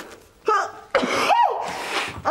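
A child indoors sneezes sharply after a short inhaled buildup, followed by further breathy voice sounds, close and loud.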